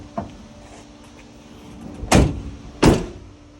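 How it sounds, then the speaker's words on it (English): Doors on a soft wash pressure washing van being shut, a faint knock first, then two loud, heavy slams about a second apart, close by and with no talking. "I'll shut the doors,"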